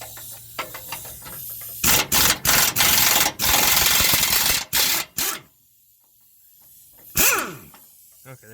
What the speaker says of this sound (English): And we'll take our 1/2 inch on the impact here.